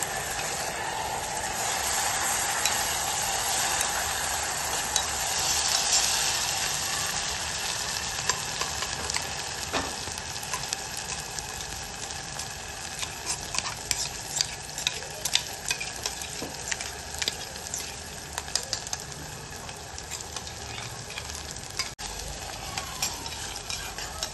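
Garlic and cumin tempering sizzles steadily in hot oil after a paste is added for a chakwat bhaji with chicken, with a continuous bright crackle and repeated scraping strokes of stirring.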